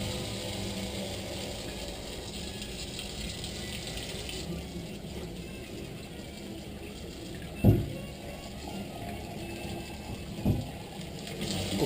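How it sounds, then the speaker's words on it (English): Hot water runs from a tap while a silicone mould is rinsed, a soft steady splashing hiss that shifts partway through, with a couple of brief knocks against the sink. "So hot water from the tap."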